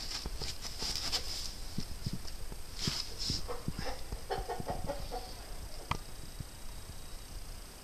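A Brahma mother hen clucks softly near her chicks against steady background noise, in scattered low calls with occasional brighter chirps.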